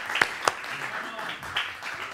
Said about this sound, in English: I just want to take 2 seconds and clap to that.